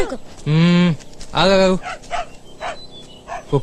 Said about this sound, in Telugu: కుక్క అరుపు